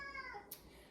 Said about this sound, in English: That's my cat Tucker.